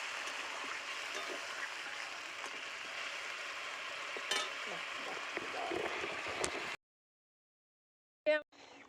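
Water poured into a sizzling fish curry in a pan sets off a steady, close hiss lasting about seven seconds, which cuts off abruptly; a short burst of voice follows after a pause.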